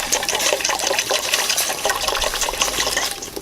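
Water poured into a container to make a four-to-one vinegar mix for soaking cloth before dyeing, a continuous splashing, gurgling pour at close range with no talk.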